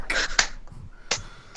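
A few slow, widely spaced hand claps ring out sharply, close up, in an otherwise quiet room.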